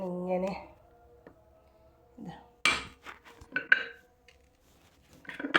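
A dough ball being pressed flat with a metal presser for a snack, giving a few sharp clanks and knocks separated by quiet gaps, with a voice speaking in between.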